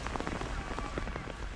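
Heavy rain pours steadily during a high school football game, a dense, continuous hiss of drops on surfaces, loud and close, with no voices over it.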